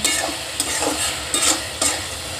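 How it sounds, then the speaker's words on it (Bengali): Chillies and pui greens fry in a pan with a dense, close sizzle, broken by a few louder scraping strokes of a spatula as they are stirred. "এটাকে এইভাবে নাড়িয়ে নাড়িয়ে ভাজতে হবে"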